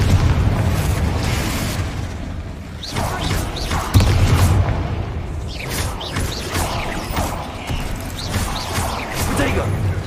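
Confringo fire spell blasts in the Hogwarts Legacy video game, several booming explosions and bursts at close range, with someone talking over them.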